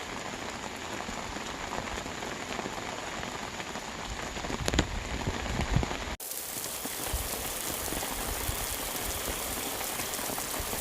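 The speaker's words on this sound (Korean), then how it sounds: "지금 비바람이 터졌어요. 바람도 엄청 불고 파라솔이 들썩들썩합니다." Heavy typhoon rain pours steadily at a fishing pond at night, a dense close hiss with strong gusting wind, broken by a sharp knock and a sudden shift in texture partway through.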